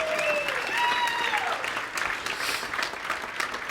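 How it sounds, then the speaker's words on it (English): Crowd applause at a business seminar, a broad sustained wash of clapping with a voice speaking over it at the start. "Let's go ahead and give them all another round of applause because they're awesome."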